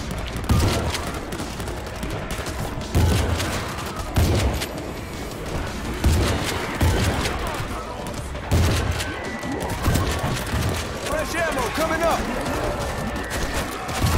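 Rapid shotgun blasts ring out during a zombie fight in World War Z, set in New York, loud and repeated at roughly one- to two-second intervals amid other gunfire, with someone talking over the action.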